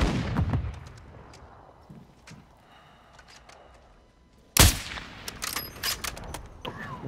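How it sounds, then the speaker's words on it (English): Video game enemy airstrike: a burst of gunfire and blasts opens, fades into a quieter stretch, then a sudden loud explosion erupts followed by scattered crackling impacts and shots. "Hostile airstrike incoming."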